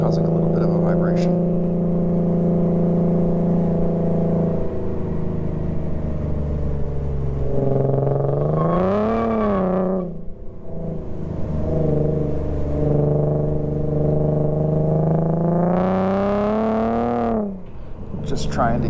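Infiniti Q50 driven hard with traction control off, engine revving loudly through rising and falling sweeps as it climbs and drops through the gears, a close and steady roar that twice dips briefly before surging again.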